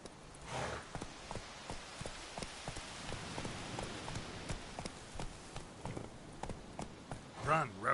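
Horse hooves clip-clop at a steady trotting rhythm in The Witcher 3, the horse Roach running along over rain-like background hiss, with a voice speaking briefly near the start and end.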